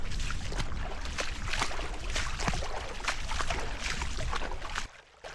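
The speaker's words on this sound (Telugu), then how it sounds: "ఈ వాటర్ ఫ్లో సౌండ్ ఎంత ప్లెజెంట్గా ఉందో కదా." A shallow stream rushes toward Thammarajupalle waterfalls in Kurnool, making a steady, loud, close wash of flowing water that drops away briefly near the end.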